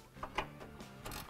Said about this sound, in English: you can use a ratchet for one bolt